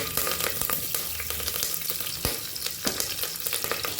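Chopped onion, bay leaves and curry leaves fry over medium flame in a pan, a dense steady crackling sizzle with occasional sharp pops and stirring scrapes, heard close and alone.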